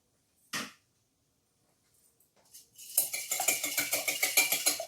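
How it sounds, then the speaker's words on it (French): Two eggs being beaten in a bowl, preceded by a couple of isolated clinks, then a rapid rhythmic whisking of utensil against bowl that builds and continues steadily, close and fairly quiet. "Donc, je bats mes 2 œufs."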